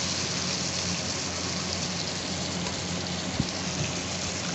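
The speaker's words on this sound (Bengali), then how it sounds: "হালকা হালকা বাইরে বৃষ্টি হচ্ছে।" Light rain falls outside, a steady, even hiss of drops that stays constant throughout, with no voices.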